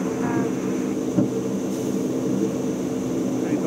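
Steady droning roar of an aircraft engine heard from inside the cabin as the plane lifts off and the gear retracts, loud and even throughout with a faint voice underneath.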